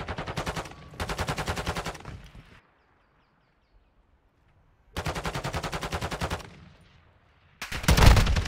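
Rapid bursts of automatic gunfire in an online shooter during ranked play, two long volleys, then a pause, then another volley and a final loud blast, close and sharp with no talk over them.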